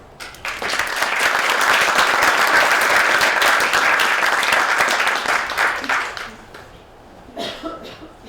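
An audience claps to welcome design speaker Ezio Manzini, a dense, steady round of applause that swells quickly, holds for several seconds, then thins out into scattered claps and a few coughs.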